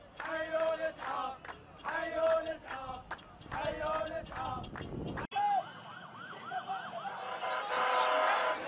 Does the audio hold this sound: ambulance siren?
yes